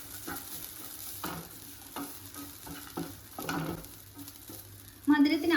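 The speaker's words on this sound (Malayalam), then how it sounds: "ഒരു കപ്പ് നാളികേരം ചിരക്കി കൂടി ഇളക്കി യോജിച്ചെടുക്കാം." Grated coconut stirred into a sweet banana and raisin filling in a hot pan: soft sizzling under repeated scraping spoon strokes, with a sharper clatter near the end and no talking.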